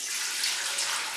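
Plain water poured into an Instant Pot for corned beef, a close, steady hissing stream running without a break.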